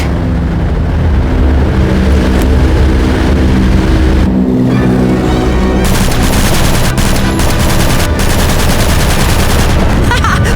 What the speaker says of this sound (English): Start shooting back then.